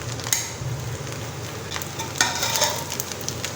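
Cooked rice for chicken biryani being stirred in a pot, a steady soft scraping and rustle with a few sharper clinks of the spoon against the metal.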